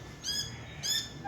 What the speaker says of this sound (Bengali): এখানে না একটা পাখি আছে, দেখছো আওয়াজ পাচ্ছ ক্যাচ ক্যাচ করে?